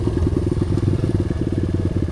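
A motorcycle engine idles close by with a steady, rapid low putter, alone and even throughout, heard on a trail ride in Palawan.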